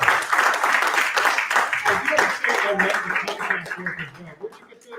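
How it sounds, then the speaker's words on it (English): Audience members at a horror convention live event clap for a costumed guest, the applause mixed with voices talking and light chuckles, thinning out as the talk takes over. "Let's get a round of applause for Slithia."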